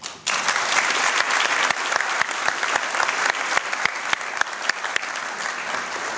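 An audience at a college honors convocation applauds juniors, dense steady clapping from many hands that starts abruptly and carries on evenly, fairly loud and close, with no talking over it.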